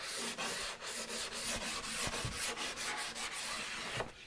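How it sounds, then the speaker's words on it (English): Steady rubbing and scraping of a sanding block on wood, lightly taking off sharp edges, a continuous close-up rasp with slight rhythmic strokes, no voices. "That block that I used, I put it inside as a sanding block."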